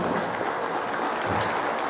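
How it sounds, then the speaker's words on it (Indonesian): Audience applause at a large Maulid Akbar religious gathering in Indonesia, a dense continuous clapping from a big crowd, steady and fairly loud for a couple of seconds. "Oleh karenanya beri tepuk tangan buat saya."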